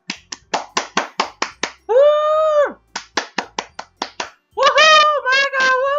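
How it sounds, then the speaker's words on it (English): A few people clap in a quick, sparse burst, sharp separate claps in short runs close by, broken by a cheerful cry of "woo" and a voice whooping between them. "The four of us applaud."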